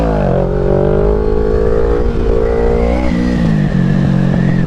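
A motorcycle engine revs loud and close throughout, pitch rising and dipping as the bike is popped up into a wheelie and held, with no talk over it.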